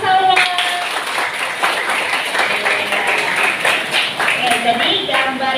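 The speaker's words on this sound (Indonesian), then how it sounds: "tepuk tangan untuk Salwa." A classroom of students claps for a classmate named Salwa during a lesson on bacterial reproduction, with close, dense hand claps running steadily throughout over a busy room and overlapping voices.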